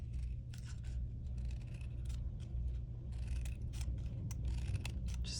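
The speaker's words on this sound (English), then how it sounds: "You're going to get your scissors, and then we're just going to fringe." Scissors snip a fringe into paper for a snowflake paper flower, making steady, close, crisp cutting strokes over a low background hum.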